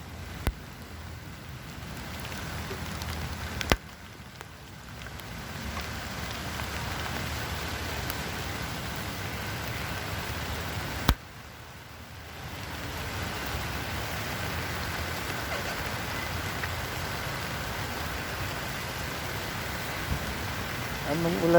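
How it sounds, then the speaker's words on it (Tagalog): Rain pours down as a steady wash of hiss across the whole stretch, broken by two sharp knocks, at moderate level with no talk over it. "biglang bumuhos ang ulan"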